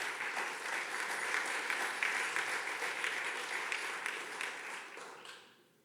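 Audience applause at a business power breakfast, a steady wash of clapping from a crowd that holds for several seconds and then tapers away, with no talking over it.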